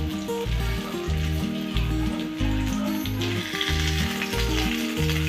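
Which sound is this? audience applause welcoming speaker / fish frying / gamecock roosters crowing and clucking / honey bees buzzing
fish frying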